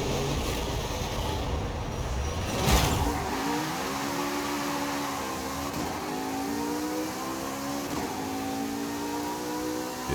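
Simulated engine of an extreme wheelie car in Forza Horizon 5 drones steadily for the whole run, with a brief burst near the start and rising, shifting harmonic tones as it accelerates, loud and continuous without talk.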